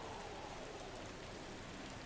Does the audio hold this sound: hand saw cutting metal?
no